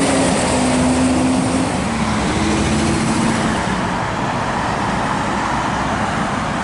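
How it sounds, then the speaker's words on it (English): Steady, loud roar of road traffic passing close by at a red-light intersection near a guardrail, continuous broadband rumble with a faint engine hum and no talk. "Now look, the traffic is right here"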